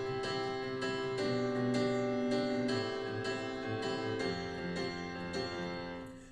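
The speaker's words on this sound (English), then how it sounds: "here's what the 4 chord progression is going to sound like" Piano plays a four-chord progression, with full sustained chords struck in a slow, regular rhythm, ringing clearly and alone before fading slightly toward the end.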